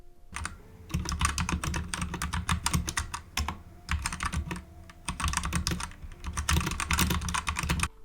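Rapid typing on a budget 60% mechanical keyboard, dense bursts of clacky keystrokes close to the microphone, with short pauses between flurries and no talk.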